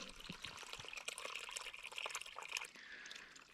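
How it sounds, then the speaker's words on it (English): Water running and trickling at a backcountry water source a short hike downhill from a campsite in the Great Smoky Mountains near Clingman's Dome, a steady close bubbling flow heard alone. "This is my water source."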